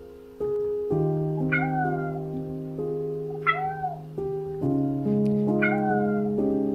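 A cat meows several times in drawn-out, wavering calls over a steady sustained musical tone, close and clear with no talking.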